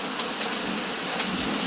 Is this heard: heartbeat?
no